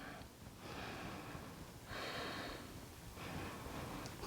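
Slow, deep breathing during a yoga pose for back care, three soft, airy breath cycles, steady and faint, close by in a quiet room.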